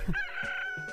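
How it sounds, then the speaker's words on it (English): A realistic green chicken in a video game crows once, close and clear, a bright drawn-out call with a short clucking start and a brief trailing note. "Also a realistic green chicken."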